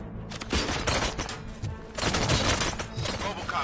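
Gunshots ring out in a comedic police skit about RoboCop, coming as two bursts of rapid, sharp cracks, loud and close, with a voice briefly mixed in.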